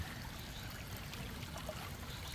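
Faint, continuous trickle of water runs through an artificial stream at a countryside campsite in Cijeruk, Bogor, a soft, even babble with no other sounds.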